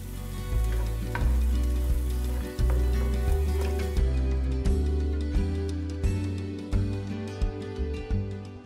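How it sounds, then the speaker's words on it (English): Garlic and ginger frying in avocado oil in a pan over medium-low heat, giving a steady sizzle that runs the whole time, with what seems to be background music layered over it. "2 tablespoons avocado oil. Garlic and ginger. Cook for about 2 minutes."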